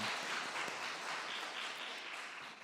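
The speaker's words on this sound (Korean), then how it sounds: "하나님 앞에 영광의 박수 올려드리겠습니다." A church congregation claps together at a Sunday worship service, a steady, dense wash of applause held at an even level for the whole stretch, with no voices over it.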